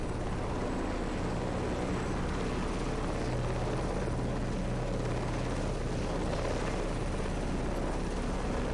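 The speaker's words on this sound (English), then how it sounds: "A beefier helicopter." A heavier helicopter in the combat video game Heliborne flies with a constant, loud rotor and engine roar that stays even and unbroken throughout, with no talk over it.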